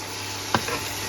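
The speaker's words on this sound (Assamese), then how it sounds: "20 মিনিট এনেকৈ লৰাব লাগে।" Mutton curry is stirred in a frying pan: a single quick scrape of the spoon over a steady low sizzle, close and fairly quiet.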